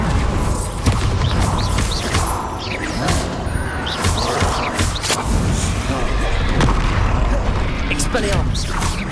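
Spell explosions and magical combat impacts from Hogwarts Legacy on PC, a dense, continuous barrage of booms, crashes and thuds with layered effects throughout, loud and busy, with a voice calling out under the noise.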